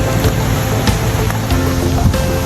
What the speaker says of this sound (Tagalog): yung pababa ka pa lang pero naririnig mo na yung lagaslas ng tubig